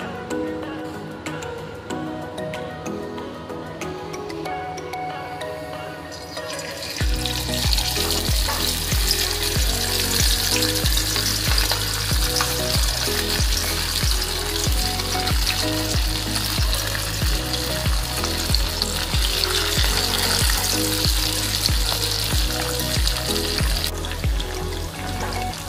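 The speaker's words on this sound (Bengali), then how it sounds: "আমরা লেজগুলোকে ভেজে নিচ্ছি সর্ষের তেল দিয়ে, গরম তেল দিয়ে আমরা এখানে ভেজে নিচ্ছি।" Hilsa fish tails dropped into hot mustard oil, the quieter opening giving way to a sudden loud, bright, sustained sizzle that continues close and steady to the end.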